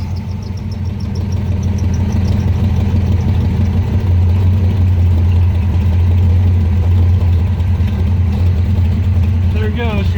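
Ford Foxbody with a 351 Windsor V8, revived after years unused, rumbles at idle in a steady, loud low drone, then falters near the end as it begins to die; people talk over it.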